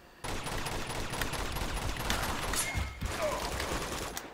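Pistol shots during an Uncharted 2 multiplayer match, a steady barrage of muffled, fairly faint gunfire with overlapping shots that runs almost the whole way through.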